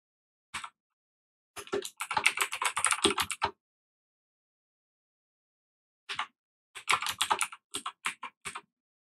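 Computer keyboard typing code into a spreadsheet macro editor, two close bursts of rapid clicking keystrokes separated by a quiet pause, with a few isolated taps.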